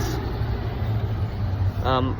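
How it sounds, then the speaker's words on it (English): A FedEx delivery truck rumbles past close by outdoors with a low, steady engine drone throughout, and a person speaks briefly near the end. "sorry, there's a truck."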